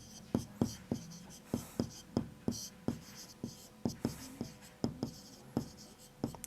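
Chalk tapping and scraping on a classroom board as a maths teacher writes out a table, a rapid series of sharp knocks in an uneven rhythm, close and fairly quiet, with no talk.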